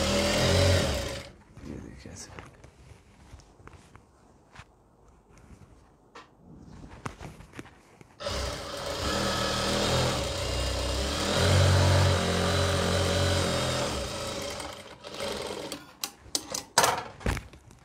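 A sewing machine stitches lace onto a frock, a short burst at the start and a longer steady run in the second half, with quiet handling sounds and someone speaking between and over the runs.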